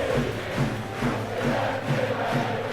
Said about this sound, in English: Senior takes the applause and gives the applause.